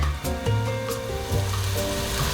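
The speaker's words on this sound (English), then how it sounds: "I want to go ahead and add my sliced garlic" Sliced garlic sizzling in a hot pan while making mushroom Alfredo fettuccine, a steady close frying hiss that runs unbroken with faint stirring clinks and tonal kitchen hum underneath.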